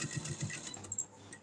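A sewing machine stitches a round neck design into fabric, heard as a brief, fast, low mechanical whirr and rattle that stops after about a second, close and moderately quiet.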